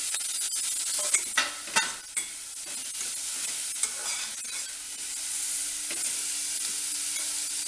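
Tomato, carrot, beans and curry leaves sauté in a hot pan for a wheat rava biryani, a steady close sizzle broken by several scraping stirs of a spoon early on, no talking.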